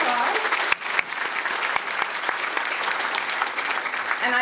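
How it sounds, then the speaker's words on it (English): Audience at an awards presentation honoring women breaks into a round of applause, brisk dense clapping with a few sharper nearby claps standing out, continuous throughout the short stretch. "Give them a round of applause."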